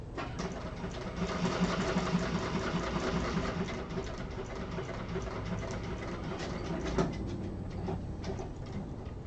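A sewing machine runs steadily, stitching continuously around a quilted Aster block back to the starting stitches, with a busy mechanical whirr and rhythmic needle patter throughout and no talking.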